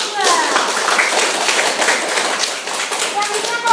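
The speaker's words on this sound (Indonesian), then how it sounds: "Oke, tepuk tangan untuk kelompok 2." Classroom group clapping for a student team in an Indonesian chemistry teaching session, dense fast hand claps from a small group, close and fairly loud, steady for a few seconds.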